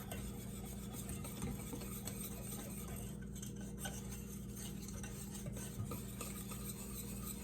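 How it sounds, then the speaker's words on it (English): Steady scraping swirl of a whisk beating dry chocolate pudding mix into cold milk in a bowl, continuous and close with no pauses or voices. "Just gonna whisk that real good so that all the dry pudding mix gets mixed with milk."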